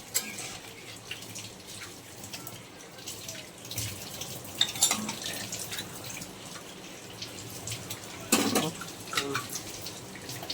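Water poured into a pan of fried fish heads and taro root, a soft watery splash and trickle with a few small clanks and sizzles, fairly quiet.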